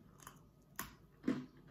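Quiet crunchy bites into a thin chocolate orange snack, two or three brief crisp snaps spaced apart with soft chewing noise between, close and alone without talk.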